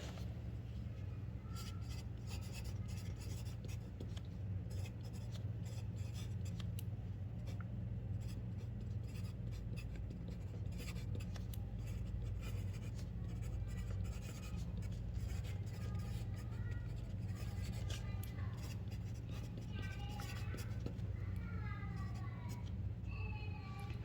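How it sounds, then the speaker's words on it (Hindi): A pen writes steadily on paper for a long stretch, soft scratching strokes in quick bursts and pauses, close by over a constant low hum, with occasional faint background noises. "यहाँ पर हम डेफिनेशन लिखते हैं सेट की."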